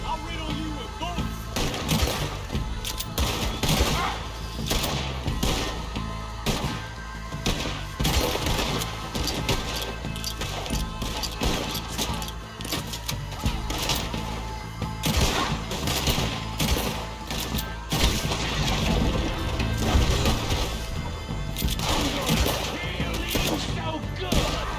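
Gunfire in Red Dead Redemption 2 rings out as a dense, nonstop barrage of shots with crashing, splintering impacts, loud and layered throughout, with faint voices underneath.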